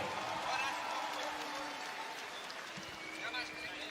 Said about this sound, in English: ladies and gentlemen, keep the applause going for El Gigante, Julio Cesar Calamino.